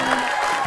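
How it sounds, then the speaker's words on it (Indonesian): Studio audience applauding a team on an Indonesian word game show, a short burst of clapping and crowd noise with faint music underneath. "tepuk tangan dulu untuk tim C."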